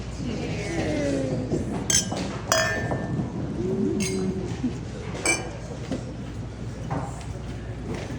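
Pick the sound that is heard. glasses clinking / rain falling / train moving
glasses clinking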